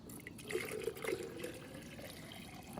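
Stream water gurgling into a bottle outdoors, a close, uneven burbling pour with a few louder glugs early on, quiet and without talk.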